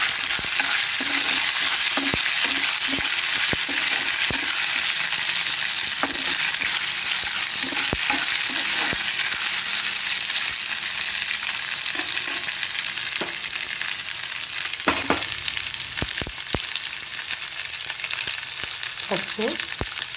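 Green chilli pieces fry in a pan with ginger garlic paste, giving a steady, loud, close sizzle broken by repeated scraping stirs and a few sharper clicks, with no voices.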